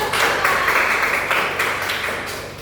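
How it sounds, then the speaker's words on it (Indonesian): Students in a classroom clap together for about two seconds in a burst of rapid, overlapping hand claps. The clapping is fairly close and loud and tapers slightly toward the end. "Tepuk tangan dulu ya."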